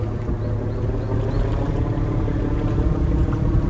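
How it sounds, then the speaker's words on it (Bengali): A ship passes on the river at Muar, Malaysia, a steady low engine rumble with wind and water wash, continuous and fairly loud throughout, no voices. "এই যে দেখুন, এই যে জাহাজ যাচ্ছে"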